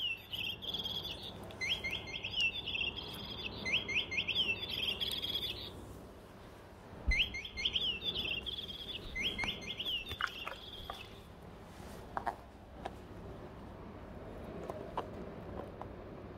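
A pet bird kept indoors chirps loudly in fast repeated bursts of shrill high notes, several clusters over the first half, then trails off into a quieter room with occasional clicks and thumps.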